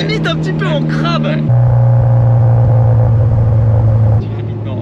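A Mitsubishi rally car idles and revs with a loud, steady engine rumble close by, the exhaust giving small crackles at the end of the throttle, with people talking over it at first.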